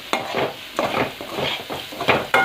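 A spoon scrapes and stirs grated coconut with turkey berries in a hot pan, giving several distinct scraping strokes with soft sizzling between them, close up and with no talking.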